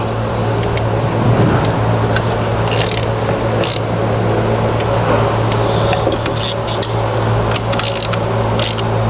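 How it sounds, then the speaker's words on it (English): Bolts being tightened on the oil separator of a 2006 Mercedes-Benz CL600, close ratchet clicks and metallic handling over a constant low hum, with short bursts of ticking repeating through. "I'm going to tighten this one first, then the one that goes on top."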